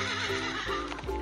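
A horse whinnies close by, a loud, quavering neigh that rises and falls, with faint hoof clatter mixed in.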